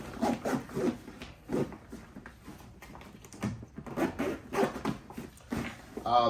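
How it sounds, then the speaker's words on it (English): A zipper runs along a compartment of a Mystery Ranch x Carryology Unicorn backpack, with several short raspy pulls and fabric rustles close by, interspersed with brief thumps and handling noises. "And we'll go ahead and zip this up."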